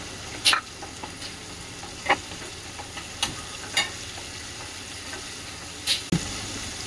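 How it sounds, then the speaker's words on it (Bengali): Tomatoes and chopped green chillies fry in a pan with a soft steady sizzle, broken by a handful of spaced scraping stirs and clinks of the spoon against the pan. "এখানে যে টমেটো ভালো করে নাড়াচাড়া করে নিচ্ছি।"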